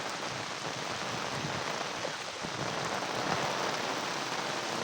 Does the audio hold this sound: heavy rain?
yes